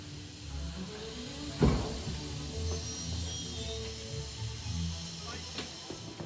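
A steam locomotive on the North Norfolk Railway hisses steadily at a distance, with a sharp metallic clank early on and faint rumbling throughout.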